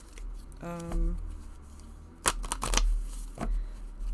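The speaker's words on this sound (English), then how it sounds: "So you can do the rifle shuffle." A 28-card deck is riffle shuffled in a quick fluttering burst, followed by a few sharp taps and shuffles of the deck, close up with a faint hum behind.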